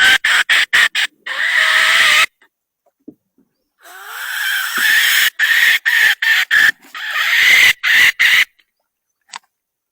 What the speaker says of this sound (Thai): เบิ่งสิยอไก่ตัวนี้ก่อน